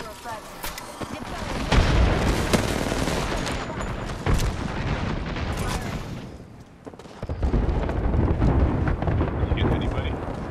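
Artillery strike explosions in the video game Apex Legends, a dense barrage of booms and blasts rolling on for several seconds, loud and close, with a short lull before more impacts and some talking.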